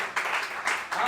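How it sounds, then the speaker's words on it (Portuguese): A church congregation claps in a brief, dense burst of applause, heard close and loud. "dê uma salva de palmas ao Senhor."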